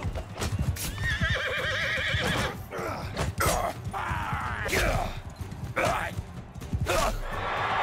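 A horse in Mount & Blade II: Bannerlord whinnies in long, wavering cries amid clip-clopping hooves and battle clatter, with someone talking over it.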